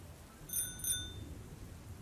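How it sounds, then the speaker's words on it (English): An old bicycle bell rings two quick, bright metallic dings close together, then a thin tone lingers and fades over a low, quiet background rumble. "I could hear that old bike bell from a mile away"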